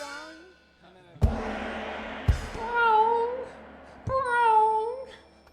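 A weird gong struck several times, each hit followed by a wavering, bending tone that whines like a meowing cat or a dying bird, fairly close and moderately loud.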